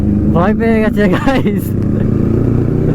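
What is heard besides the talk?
Kawasaki Ninja ZX10R superbike engine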